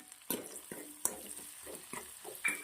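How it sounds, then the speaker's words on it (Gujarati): Finely chopped garlic sizzles and fries in butter in a pan, with soft scraping stir strokes and a few sharp clatters close by, moderately quiet and with no voice. "લસણને શેકી લેશું માખણના અંદર લસણ મસ્ત શેકાઈ ગયું છે"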